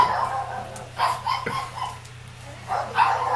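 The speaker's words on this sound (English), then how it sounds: "there's a dog in chat" A dog barks a few times amid ongoing talk and some laughter, the barks sharp but partly buried under the voices.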